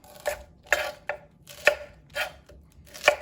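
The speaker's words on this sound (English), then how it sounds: "So we're going to cut off all the stems at once, and then we're going to cut them all in half." A knife chopping through vegetable stems and halving them on a cutting board: six sharp, distinct thunks at an uneven, unhurried pace, close and clear, with no talking.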